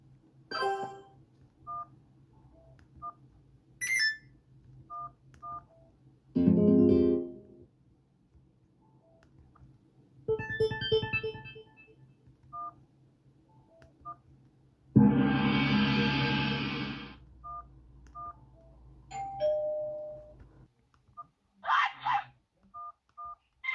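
A Sony Ericsson K550i mobile phone plays its built-in sounds: a sparse series of short electronic beeps and keypad-style tones, broken by several longer chiming bursts, all clear and close with quiet gaps between.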